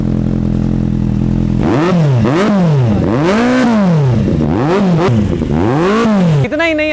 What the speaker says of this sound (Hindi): भाई आप इसका एग्जॉस्ट नोट सुनो